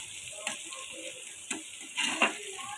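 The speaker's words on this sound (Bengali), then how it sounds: "এখন এটা একটু আমি হালকা ভাজা দিব।" Sliced okra frying lightly in a hot pan: a soft, continuous sizzle broken by a few sharp scraping and clinking stirs, close up with no voices.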